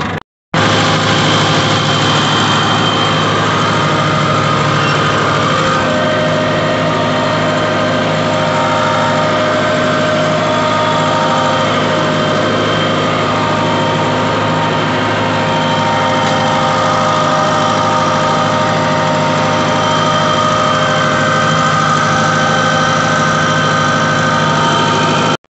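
Tractor engine drags a disc plough through soil while terracing a contour line, a steady loud continuous drone with constant vibration and no letup, running alone throughout.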